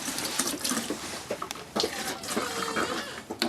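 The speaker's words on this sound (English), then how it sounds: "we're just going to pour a little antifreeze down each sink" Antifreeze is poured down a small camper or RV sink, a splashy gurgling stream of liquid into the drain with uneven surges and clinks, close and fairly quiet.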